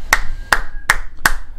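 Four loud, sharp hand claps ring out close to the microphone at a slow, even pace, each followed by a brief tail of room sound.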